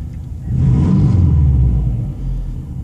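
A car engine idles after a cold start, a steady low rumble that swells slightly and holds, loud and close with no talking.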